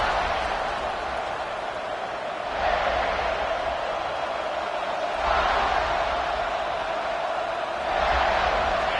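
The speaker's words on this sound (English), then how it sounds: "This crowd ready to make its presence known." A football stadium crowd roars at the opening kickoff of a Gamecocks game, a dense, distant wash of noise that swells in waves every few seconds.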